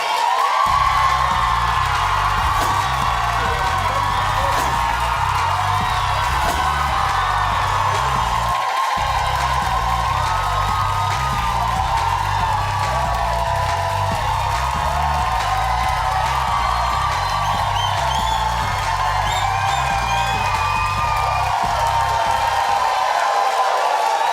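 Studio audience cheering, whooping and clapping in a steady loud roar that carries on almost without pause, with one brief dip in the middle, all close and dense with no clear voice above it.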